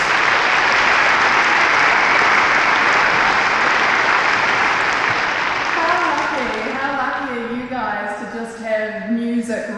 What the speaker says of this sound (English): can we get a round of applause for the wonderful Robert Scott